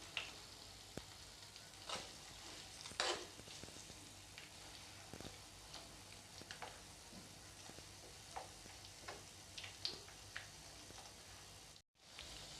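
Herbal hair oil boiling in a pot on a gas stove gives a soft, steady sizzle of bubbling and crackling, with scattered small pops and ticks, quiet and close, with no talking.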